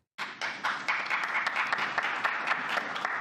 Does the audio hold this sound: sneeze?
no